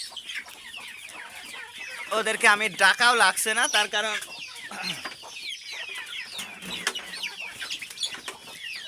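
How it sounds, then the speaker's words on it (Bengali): Domestic desi chickens gathered in their coop waiting for feed, clucking and chattering close by in overlapping bursts, louder in the middle, while someone talks over them. "মুরগিগুলো অলরেডি আমার আগেই মুরগি ঘরে ঢুকে আছে খাবার জন্য"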